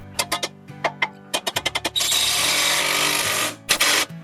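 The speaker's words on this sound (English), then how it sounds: "I have to pre-drill some holes in the steel H-bar so we can attach it to these sleepers" A power drill bores holes in a steel H-bar for attaching treated timber sleepers on a retaining wall deck, first in rapid short bursts of revving and then in one sustained loud grinding run, close and with no talk.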